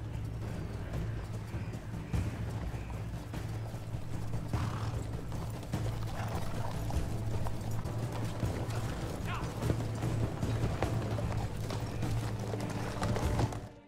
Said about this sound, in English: it's just a scene of some horses crossing a bridge